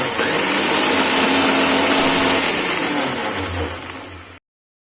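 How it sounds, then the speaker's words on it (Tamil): A mixer grinder whirs steadily as it blends garlic, salt, sugar and lemon for mayonnaise, a loud, continuous motor drone that runs alone for about four seconds and then cuts off abruptly. "இது கூட லெமன் சேர்த்து எல்லாத்தையும் எண்ணெய் விடாம அரைச்சுக்கலாம்"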